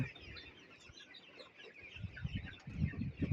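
Desi chickens clucking nearby on a poultry farm, soft scattered clucks growing busier and louder toward the end over faint background noise.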